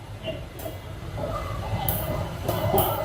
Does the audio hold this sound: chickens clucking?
no